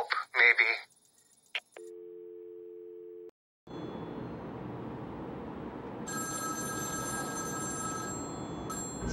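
A telephone rings in Batman Arkham City: a short voice-like burst, then a steady electronic tone, then a hissy line with a ringing tone layered on top.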